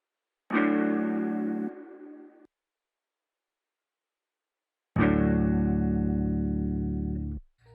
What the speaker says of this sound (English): this is the first vibey guitar stab.